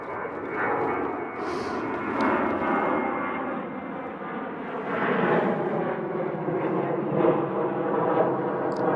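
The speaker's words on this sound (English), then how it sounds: "I'm by an airfield" A propeller airplane flying low over an airfield, a loud, steady engine drone that swells and fades slightly while it passes nearby.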